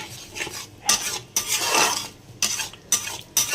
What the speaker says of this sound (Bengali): দিয়ে ভালো করে এটা কষাচ্ছি।